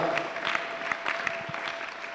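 A church congregation bursts into applause, a dense crackle of many hands sustained through the moment, with a faint steady tone running underneath and a few louder claps standing out.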